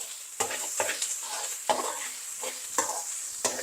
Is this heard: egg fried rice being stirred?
yes